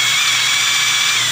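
A white side carbide cutter head spinning inside a pen blank tube to clean it out, a steady loud high-pitched whirring drone, close and unbroken for the whole moment.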